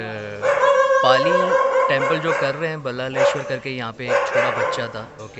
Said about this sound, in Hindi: बैकग्राउंड में ये कुत्ता भौंक रहा है,